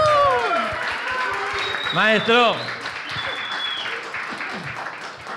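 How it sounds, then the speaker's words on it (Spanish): Audience applause welcoming a guest onto a stage show, clapping running under a voice that speaks and calls out loudly midway, with some background noise. "Fuerte el aplauso para recibir al maestro Raúl Ramírez."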